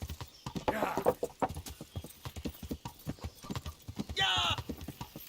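Horse hooves clip-clopping at speed in the video game Kingdom Come: Deliverance, a rapid steady rhythm of hoofbeats with a short whinny-like burst and another near the end, moderately close.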